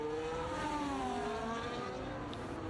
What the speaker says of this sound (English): The thing I always hated about how they did the engines in these games, man, is they all sound way too high-endy.